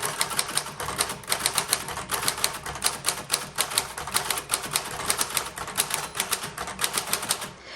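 A 1941 Corona Standard manual typewriter clatters away close up, keys striking in a fast, even rhythm with short gaps between bursts of typing; its bell is very faint.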